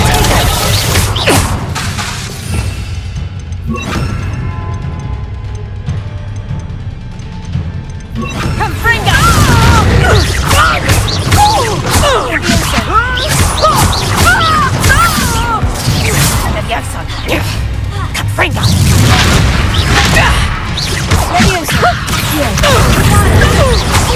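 Spell-cast explosions and fiery blasts from Bombarda and Incendio in the Hogwarts Legacy video game, a haunted house in Hogsmeade: loud repeated crashes, whooshes and booms, dense and close, with voices shouting over the action.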